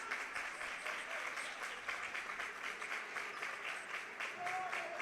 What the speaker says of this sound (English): McDonell fans cheering on their defense.